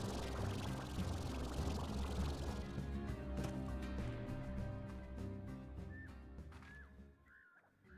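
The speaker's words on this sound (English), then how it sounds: "that sounds like scary tar slime noise" In the video game Slime Rancher, a murky tar slime noise plays as a thick gurgling, pouring texture that thins out into sparse bubbly pops and fades.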